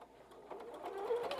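A sewing machine runs briefly as it back-stitches over the binding of a quilted wall hanging, a soft rapid whirring that builds over about a second and a half with no talk.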